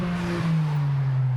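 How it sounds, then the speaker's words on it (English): Aftermarket exhaust on a 2017 Ford Focus Lease Edition revving: a brief, loud, close engine note that holds steady with a slight rise, with no talk. "this aftermarket exhaust, which sounds actually quite fun"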